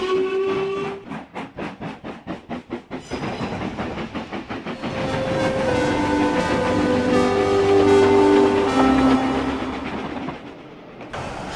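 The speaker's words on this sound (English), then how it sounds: "The fireman raised steam as quickly as he could, and Henry, blushing with embarrassment, set off for the big station." A steam locomotive pulls away from a station, its chuffs starting slow and distinct, then quickening into a continuous rumble with a whistle-like tone over the running noise, loud and close throughout.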